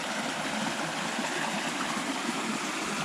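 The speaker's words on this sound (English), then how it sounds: "So I found this really nice stream." A mountain stream on Segment 3 of the Colorado Trail rushes and splashes in a steady, close, full wash of water noise with no voices.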